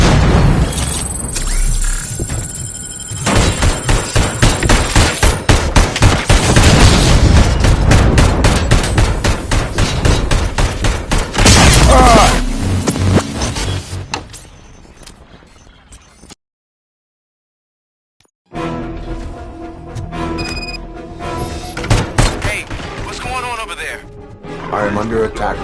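ED-209 attacks in the RoboCop: Rogue City video game with loud, dense machine-gun bursts and heavy booms. The fire pounds steadily, thins out and drops to a brief silence, then picks back up with voices heard among the shots.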